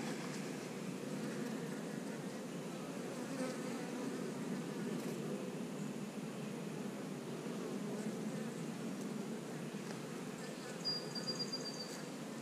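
A swarm of honey bees with their queen hums close by, a steady dense buzzing drone that continues evenly throughout with no talk over it.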